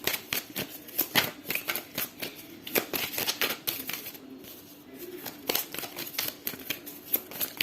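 Tarot cards are shuffled and drawn by hand, giving a close, continuous riffling and flicking patter with dense irregular bursts and a brief quieter pause midway.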